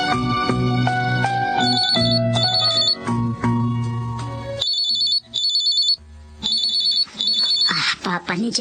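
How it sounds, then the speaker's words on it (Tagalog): A cellphone ringtone for an incoming call plays in a Filipino radio drama, loud and close. Its bright repeating electronic melody runs under music and then breaks off, with a voice speaking near the end. "Papa ni Jerome itong tumatawag sa cellphone."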